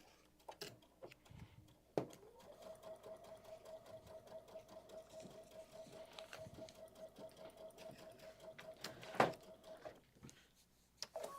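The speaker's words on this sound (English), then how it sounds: "we're going to back stitch there" A sewing machine runs at a steady stitching pace for several seconds while back stitching at a Kimberbell quilting event, with a few clicks at the start and end and a sharp knock near the finish.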